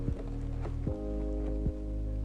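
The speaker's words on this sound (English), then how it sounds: "I don't know if you can see my horses." Horses on a sunny winter farm in Alberta, Canada, eat hay nearby. A few soft thuds and crunching sounds sit over a steady low hum, with no clear voices.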